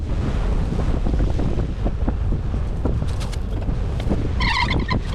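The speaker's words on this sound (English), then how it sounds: "We've had some pretty crazy winds today here in central Oklahoma" Strong gusting wind buffets the microphone outdoors in central Oklahoma, a loud, steady roar with rumbling low-end bursts throughout, and a brief faint higher-pitched tone near the end.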